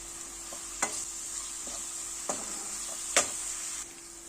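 Chopped pepper and green beans sauté in olive oil in a pan, a soft steady sizzle running throughout, broken by a few distinct stirring clacks of a utensil against the pan.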